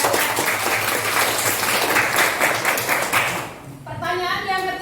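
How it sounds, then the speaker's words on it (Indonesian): A classroom of high school students claps together in steady, energetic applause for several seconds before it fades, and a teacher's voice follows close by. "Tepuk tangan untuk teman-teman."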